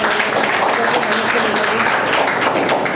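Students and families applaud a passed-out student at a motivational school gathering, a steady wash of clapping that fills the room with no break for its full length, fairly loud and close, with a voice cutting through the crowd.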